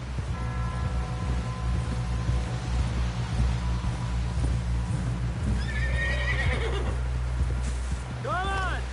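Horses neigh and whinny in Red Dead Redemption 2, with hooves clip-clopping under a steady low hum, and a bright whinny rising near the end. A voice is faintly present.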